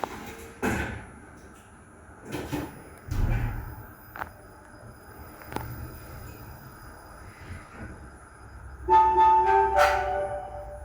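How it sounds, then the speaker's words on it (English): Hyundai machine-room-less elevator door closing at a store in Alam Sutera, South Tangerang, Indonesia: several sliding rumbles and thuds of the doors moving and shutting, with a chime near the end. "The door is closing."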